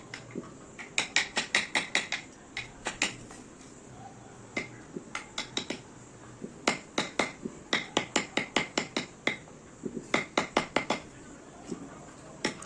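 Mallet striking a chisel while carving a wooden parrot wing for a chair or sofa design, sharp close knocks in quick irregular bursts separated by short pauses.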